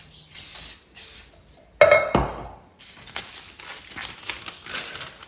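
Cooking spray hisses onto a cake tin in one short burst mid-clip, surrounded by light metallic clinks and handling noises of the tin on a counter.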